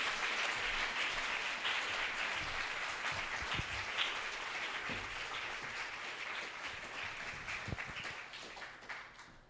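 Audience applause for speaker Giles Duly at a CreativeMornings New York talk: a sustained, fairly distant wash of many hands clapping for about nine seconds, tapering off at the end.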